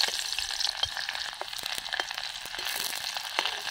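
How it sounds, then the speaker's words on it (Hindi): Garlic, onion and chili sizzle and crackle in hot mustard oil, a steady bright frying hiss with scattered pops and stirring, close up and without talk. "अब इसमें हम लहसुन प्याज मिर्चा का तड़का लगाऊंगी साथ में डाल के।"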